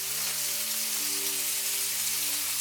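Bacon lardons pre-cooking in a pan give off a dense, continuous sizzle and crackle, close and even in level, with no talking over it.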